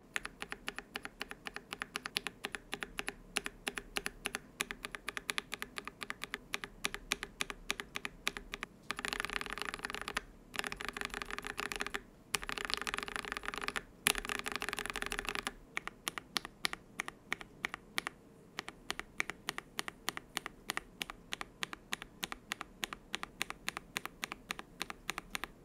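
A computer keyboard fitted with blank keycaps on rows 1 and 4 is typed on up close, steady clacking keystrokes in quick bursts with a denser stretch of fast typing in the middle, no talk.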